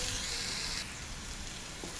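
Crushed chicken frying in coconut oil in a pan, a dense steady sizzle close up with no talking.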